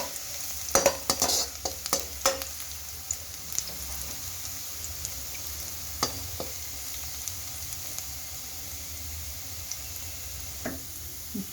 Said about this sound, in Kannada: ಸ್ವಲ್ಪ ಹಸಿ ವಾಸನೆ ಹೋಗೋದು ಫ್ರೈ ಮಾಡ್ಕೊಳ್ಳಿ